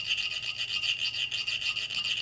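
Colored sand for a sand mandala trickling and falling into place, a steady, close, fine hiss of crumbling grains that runs unbroken and alone.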